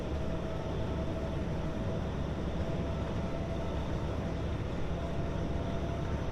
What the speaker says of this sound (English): I really like the sound of this train.